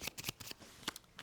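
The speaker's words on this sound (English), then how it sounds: "And I draw 4 cards, 1, 2, shuffling this back up again." Cards being shuffled during a solo game of the Tea Garden board game: several quick riffling bursts and soft slaps spread across about a second, close and fairly quiet, with no talk.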